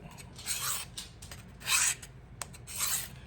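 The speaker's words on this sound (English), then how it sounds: "So you're just pulling the knife across it." A knife blade pulled across a sharpening stone at a camp: three or four separate rasping strokes, each a short gritty scrape with quiet pauses between, close and fairly soft.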